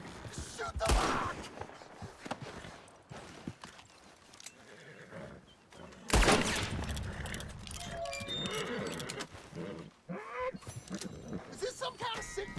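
A gunshot fired at a lock in Red Dead Redemption 2, a sharp loud crack near the middle of a busy game scene full of horse whinnies, hoofbeats and other shots.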